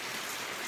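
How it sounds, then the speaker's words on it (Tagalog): Steady rain pours down outdoors in rural Bohol, a continuous even hiss of drops on surfaces with no voices, filling the whole short stretch at a constant level. "At yan ang nangyayari sa aming likuran. Umuulan."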